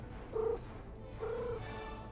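Blitz, a pet cat, purring softly up close, a low steady rumble with two slightly stronger swells over a couple of seconds.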